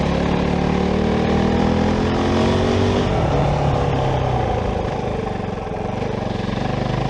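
A Kove 450 Rally motorcycle engine drones steadily while cruising, a continuous loud hum with a falling pitch change partway through, wind noise over it and no voices.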